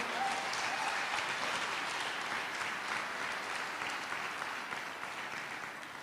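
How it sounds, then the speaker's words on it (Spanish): Warm, sustained applause from a large church congregation during a sermon fills the room, steady and even, slowly tapering off toward the end. "Dele un fuerte aplauso al Señor por eso."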